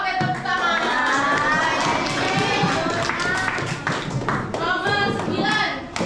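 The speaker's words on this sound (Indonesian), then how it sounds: "Oke, tepuk tangan." A whole class claps hands together in a classroom, a dense, sustained burst of applause with students' voices mixed in throughout.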